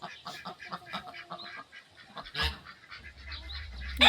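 Ducks quack in a quick, busy chorus outdoors, fairly close, with a louder honk-like call partway through and a low rumble near the end.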